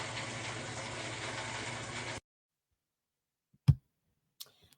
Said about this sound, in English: so as you can hear, it sounded like the shower was running